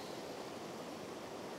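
A stream flows over stones in the countryside, giving a steady, soft, even rush of water with no breaks and no voices.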